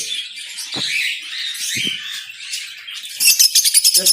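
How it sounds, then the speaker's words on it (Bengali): A caged pair at a bird market, a cinnamon red-eye lovebird and a Fischer's lovebird, give shrill chirps and squeaky calls close by, ending in a rapid, loud series of sharp tweets. "মেলটা হলো চিনামন লাভবার্ড বলে এটাকে রেড আই আর ফিমেলটা হলো আপনার ফিশার"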